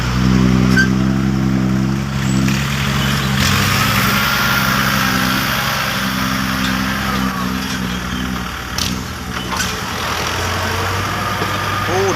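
Farm tractor with a 115 horsepower engine, fitted with an 838 rear axle, running steadily at close range, a loud continuous low diesel rumble with slight shifts in pitch throughout.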